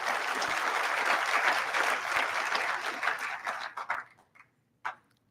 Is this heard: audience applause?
yes